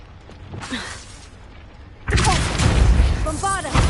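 A Bombarda spell blast in Hogwarts Legacy erupts with a loud, broadband boom and sustained crackling rumble in the second half, following a quieter stretch with faint tonal game effects.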